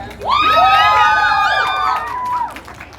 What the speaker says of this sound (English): Loudest cheer and riding in the car.